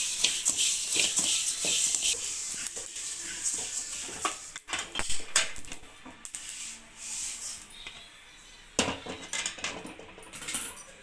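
Fennel seeds, 100 grams, dry-roasted in a pan for homemade chilli powder, rustle and scrape in steady shuffling bursts close by, with a brief lull and then renewed stirring toward the end.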